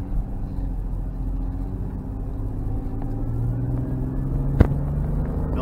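A 1992 Toyota Aristo twin turbo with a 2JZ-GTE engine accelerates, giving a steady, deep engine rumble that builds slightly, with one brief sharp click near the end.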